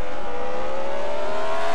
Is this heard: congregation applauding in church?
no